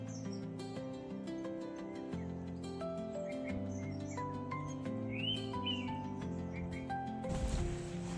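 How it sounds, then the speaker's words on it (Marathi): Birds chirp and call repeatedly amid rural countryside greenery, light tweets scattered over a soft, steady outdoor backdrop, with no talking. "शांत बसलो तर फक्त पक्ष्यांचे आवाज आहेत."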